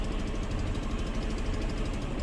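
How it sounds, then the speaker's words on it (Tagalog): An Easyride 150N motorcycle engine idles steadily with a dense, continuous low rumble and faint vibration, close by and alone. "paandar rin natin yung makina, yan. So umaandar siya"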